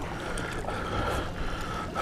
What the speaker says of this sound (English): right now I'm paddling into the wind and the tide